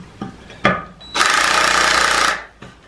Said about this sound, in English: My drill doesn't have enough cojones to get these off here.